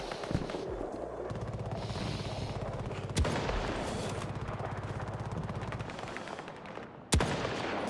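Battlefield 6 gunfire rattles in steady, fairly distant bursts of rapid shots, with two sharp louder cracks punctuating the stream.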